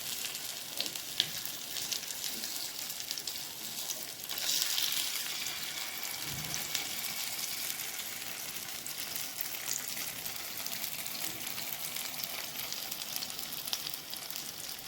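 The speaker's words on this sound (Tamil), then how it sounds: "அடுத்த பக்கம் நம்ம திருப்பி அதையும் ஃப்ரை பண்ணிக்கலாம்" Seer fish (vanjaram) coated in masala fries in a pan with a steady, bright crackling sizzle that runs throughout, with a faint brief thud partway through and no voices.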